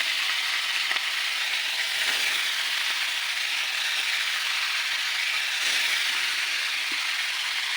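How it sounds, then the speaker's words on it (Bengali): Chicken feet frying in oil in a wok, a loud, continuous hiss of sizzling that holds steady throughout with no voices. "মাংসটা দিয়ে দিলাম দিয়ে এখন মাংসটাকে ভালো করে ভেজে নেব"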